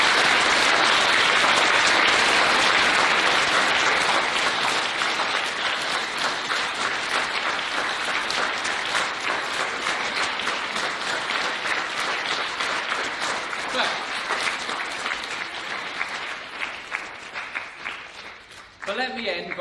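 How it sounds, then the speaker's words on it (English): Large crowd of students at a boys' school assembly giving teachers a long round of applause, loud and dense at first and gradually thinning out over about twenty seconds. "So I would like you to join with me in giving your teachers a huge round of applause."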